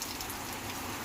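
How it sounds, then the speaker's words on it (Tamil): Heavy rain pours down in Tiruppattur, a dense, continuous hiss of drops hitting surfaces with no pause and no voices. "இப்போ திருப்பத்தூரில் வந்து சரியான மழை பெஞ்சிட்ருக்குங்க."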